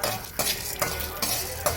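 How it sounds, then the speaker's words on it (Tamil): Garlic and urad dal fry in hot oil with a steady sizzle, broken at regular intervals by the scrape of a spoon stirring the pan, close and fairly quiet with no talking. "அந்த வெள்ளைப்பூடை போட்டு உளுந்தம்பருப்பு போட்டு நல்லா வறுக்க வேண்டியதுதான்"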